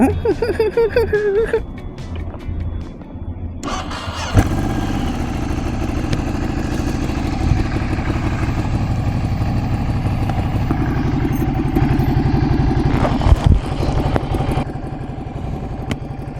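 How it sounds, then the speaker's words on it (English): A 400cc air-cooled Ducati Scrambler Sixty2 motorcycle cranks briefly, fires up with a sharp catch, then settles into a loud, close, lumpy idle that carries on steadily, with a voice briefly under it. "You're gonna hear the sound of the startup. I think it's quite iconic."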